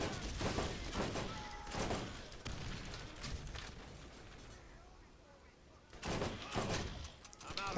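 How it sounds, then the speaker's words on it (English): Turret gunfire in the Borderlands video game on Xbox One: dense, loud bursts of rapid shots fill the opening seconds, ease into a quieter stretch, then return in a sharp volley near the end. "Put our turret out there now, and we'll get that bandit dealt with."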